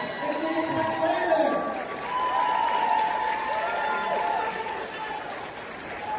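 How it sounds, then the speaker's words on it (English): Crowd noise at a Comic Con convention, a steady wash of cheering and chatter that holds at a fairly even level throughout, with voices mixed into the din. "They cheering for me already, man."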